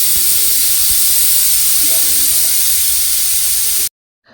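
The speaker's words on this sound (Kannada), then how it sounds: "2 ವಿಷಲ್ ಕೂಗಿಸ್ಕೊತೀನಿ." A pressure cooker of mutton for biryani lets out a loud, steady hiss of escaping steam close by, then cuts off abruptly into near silence.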